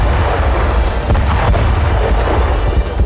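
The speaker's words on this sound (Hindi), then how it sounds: "बम गिरते ही जोरदार धमाका होता है और टैंक खाक हो जाता है।" A bomb dropped from a drone explodes on an Israeli tank in Gaza, heard as a loud, sustained rumbling blast that fills the whole stretch with dense low booming and crackle, no voices.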